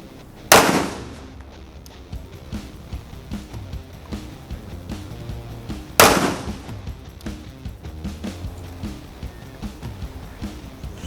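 A Rock Island Armory TAC Ultra FS HC 1911 9mm pistol fires two loud, sharp shots at a shooting range, about five seconds apart, each ringing out over quiet background noise.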